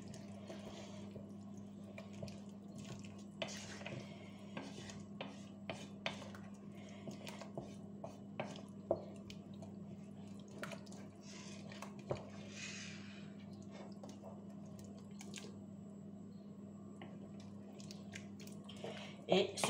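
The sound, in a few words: stirring turkey osso buco in a pot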